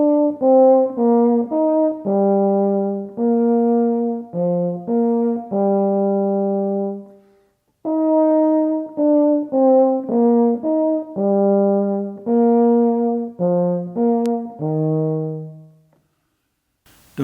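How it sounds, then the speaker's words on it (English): A euphonium plays a slow melody with every note hard-tongued and clearly separated, with no smoothness between them. It is close and clear, in two phrases with a short pause between. "is they'll really tongue every note"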